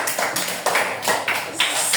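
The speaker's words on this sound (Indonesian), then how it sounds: "Tepuk tangan untuk kita semua." A class applauds together in rhythmic, repeated bursts of hand claps, with each sharp cluster landing about every half second, close by and fairly loud.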